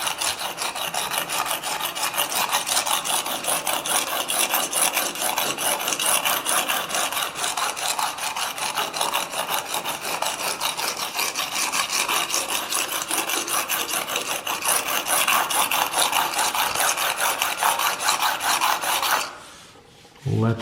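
A QAD swept blade is drawn back and forth across a 240 grit diamond plate in quick, regular rasping strokes, close and steady for about nineteen seconds before a brief stop.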